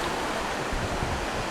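Surf washing around a rocky ridge with single and double sea arches jutting into the ocean at Point Arena, a steady broadband roar of waves, even and continuous, with no voices over it.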